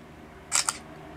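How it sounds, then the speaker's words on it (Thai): Samsung Galaxy A7 phone camera shutter: a short double click, two quick snaps close together, faint room hum behind and no talk. "ชัตเตอร์เร็วนะครับ"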